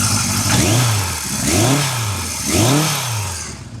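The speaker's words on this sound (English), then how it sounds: "I'll give you a little listen to the engine." A 1975 Kawasaki Z1B motorcycle engine runs smoothly up close, blipped through three rising-and-falling revs over a steady idle.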